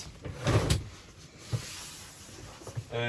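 A toilet door inside a six-person motorhome swings open with a cluster of close wooden clunks and rattles, followed by a few lighter knocks in a quiet interior.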